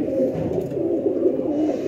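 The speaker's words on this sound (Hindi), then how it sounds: "ये बहुत चौड़ी छातियों का कबूतर है" A broad-chested pigeon coos in a low, continuous, rolling murmur, held close in the shade, with no talking.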